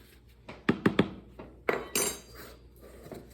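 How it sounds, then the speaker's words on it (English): Spoon stirring dry ingredients for chocolate chip oatmeal cookies in a bowl, producing a few sharp taps and clinks, then some softer scraping, quiet and close. "And then we're just going to mix it up."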